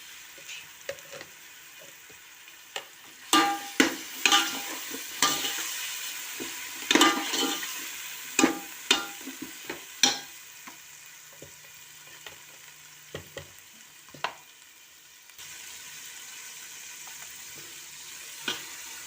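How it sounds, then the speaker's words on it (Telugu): Mutton pieces frying in hot oil with a steady sizzle, broken by repeated loud stirring and scraping strokes against the pan, close and without talk. "అట్లా మటన్ కూడా వేసేస్తున్నా నేను ఆయిల్లో ఫ్రై చేస్తానండి"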